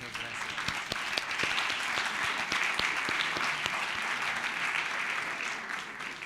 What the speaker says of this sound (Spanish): Es un aplauso muy merecido.